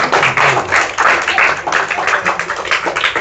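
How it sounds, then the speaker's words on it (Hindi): An audience claps loudly in a dense, continuous burst of applause at a village gathering in Jaunpur, with a voice faintly mixed in. "एक बार जोरदार ताली भैया के लिए बजाइए"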